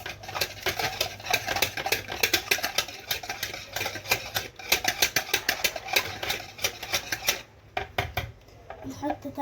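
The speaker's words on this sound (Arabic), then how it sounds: "وهنقلب كويس." Pancake batter of egg, vanilla and a pinch of salt being stirred in a bowl, giving a fast, steady run of close clinks and scrapes that stops briefly near the end.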